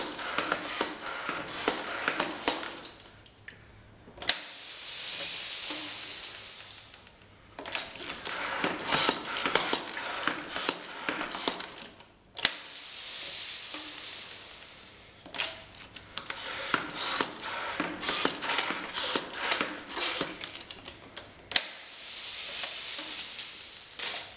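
A Water Warriors Pulse Strike water blaster fires in three bursts of hissing, sizzling spray, each lasting a couple of seconds and separated by quieter gaps with faint handling noise.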